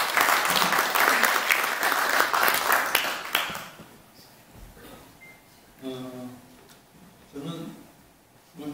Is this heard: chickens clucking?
no